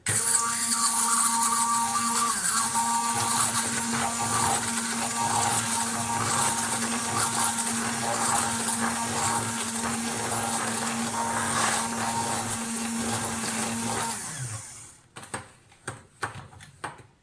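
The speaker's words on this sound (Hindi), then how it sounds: "मैं ब्लेंडर यूज़ कर रही हूँ" A blender making creamy coffee whirs steadily and loudly for about fourteen seconds, then stops, followed by a few light clunks.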